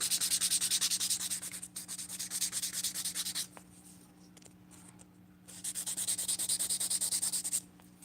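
Acrylic nails being filed with a nail file, in fast rhythmic back-and-forth rasping strokes, close and loud, with a pause in the middle before the strokes resume.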